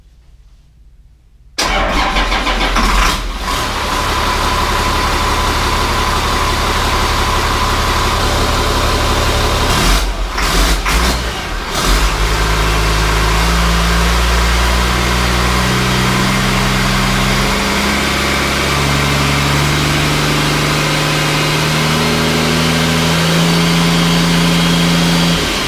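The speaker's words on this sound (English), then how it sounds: "we're going to fire it up real quick and just let it run for a few seconds" CAT 3126 diesel engine swapped into a 1991 Ford F350 cranking and firing up, then settling into a loud, steady, close rumbling idle with a couple of brief dips and revs, no voices.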